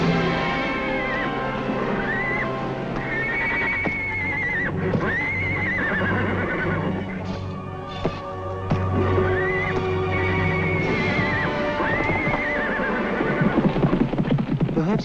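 A horse neighs again and again in long whinnies over the steady clip-clop of hooves at a ride. The sound is loud and close, with a brief gap in the middle before the neighing resumes.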